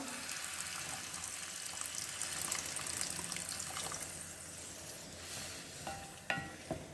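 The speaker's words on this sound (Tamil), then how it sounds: "இப்போ கொஞ்சம் தண்ணி ஊற்றலாங்க, கொஞ்சமாக." A little water is poured into a simmering drumstick leaf curry seasoned with salt, chili and turmeric, giving a soft steady sizzle and bubbling that fades, with a couple of light clinks near the end.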